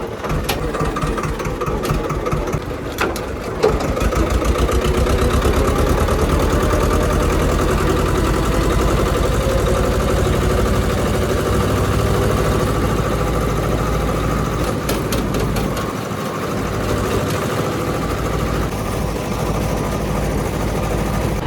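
A diesel tractor engine runs in a low gear on a rough, badly broken road, a loud continuous chugging drone close by with rattling vibration and slight shifts in load, and no talking.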